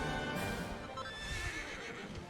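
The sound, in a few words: horse neighing in the video game Dragon Quest 11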